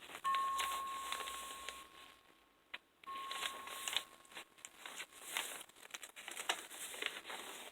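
Old wrapping paper from the 1960s is handled up close, giving quiet crinkling and rustling throughout with small crackles and one brief pause of near silence.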